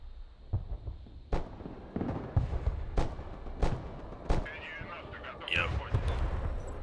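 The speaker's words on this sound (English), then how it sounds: "they're firing javelins" Javelin missiles launch and explode in the Broken Arrow battle game, about seven sharp booms spaced roughly a second apart, loud and close, amid battle noise and a high whine near the end.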